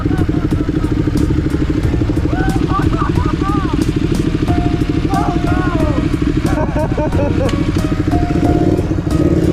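A Ducati motorcycle fitted with an upshift quickshifter roars steadily and loudly throughout, its engine note continuous and close, while a rider or passenger speaks over it.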